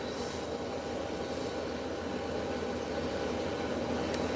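An Embraer 120 turboprop airliner's engines run at an airport, a steady, even drone with a broad rushing hum held at constant level throughout, no voices.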